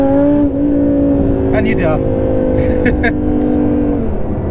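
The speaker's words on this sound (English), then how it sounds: "Watch how fast this thing gets up to 70" An 850 bhp Audi R8 V10 Plus pulling hard from inside the cabin, a loud steady engine drone with a brief dip at a gear change, while a voice speaks briefly over it.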